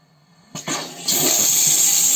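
After a couple of clunks, water bursts on and rushes steadily through newly installed household plumbing, a loud hissing flow that continues to the end.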